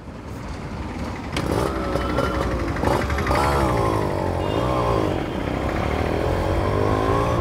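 A Yamaha RX 135 five-speed motorcycle, fully modified, its two-stroke engine running close by with a steady buzzing idle and a few rising and falling revs; someone talks over the engine noise.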